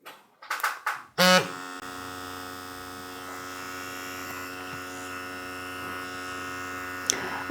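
A Defenderr Fenix S PRO wireless permanent makeup tattoo pen is switched on after a few handling clicks, then runs with a steady, even electric hum at close range, alone and unchanging for several seconds.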